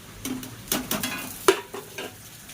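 Chicken pieces tip into a hot pan for mixed fried rice and sizzle quietly while a utensil scrapes and stirs in several separate strokes, with one sharper clink of metal partway through.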